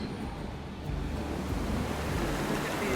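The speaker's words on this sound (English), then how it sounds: "Look at these waves." Surf rolling onto an Ocracoke Island beach on North Carolina's Outer Banks, a steady wash of breaking waves with wind buffeting the microphone, continuous and fairly close, with no voices.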